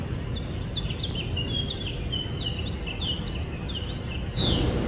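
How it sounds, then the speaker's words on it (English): Small songbirds, house finches, give repeated high chirping calls throughout, fairly steady and moderately close over a constant outdoor background hiss, with a brief louder burst near the end. "But it's a house finch."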